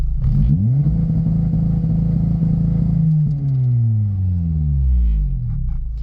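Acura RSX DC5 engine revving and holding steady against a BeeR launch-style rev limiter, bouncing rapidly off the cutoff with a loud buzzing stutter for several seconds, then dropping back down as the revs fall, close up with no talking.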